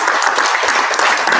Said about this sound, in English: Round of applause for Mayor Curtis.